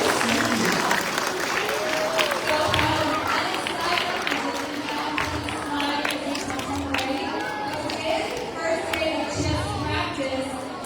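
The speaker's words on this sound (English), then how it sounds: "we'll give them a round of applause" Students and staff at a Friday school assembly give a sustained round of applause, a busy wash of clapping and crowd murmur lasting several seconds with voices chattering throughout.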